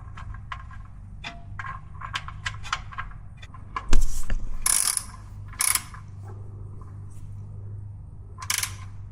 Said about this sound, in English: So I'm going to go ahead and tighten down that plug.